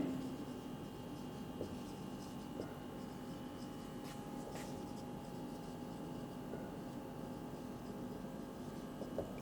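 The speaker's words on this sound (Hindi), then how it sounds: "तो अपन एक नोट डाल लेते हैं, स्टार बना के लिख लेते हैं" Faint, steady scratching of writing strokes on a board during a maths lesson on sets, continuous and quiet, with a few light taps and no voices.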